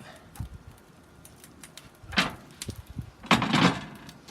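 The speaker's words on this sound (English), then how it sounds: "So now we'll close our door back up." Metal grill door on a smoker closing outdoors at a tailgate cook, giving a couple of moderate clanks and thuds with quiet outdoor background between them.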